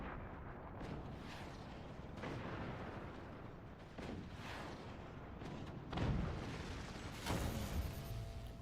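Howitzer artillery fires in a battleships-style video game, with a series of deep, muffled booms and thuds at irregular intervals, fairly faint and distant-sounding, with no talk.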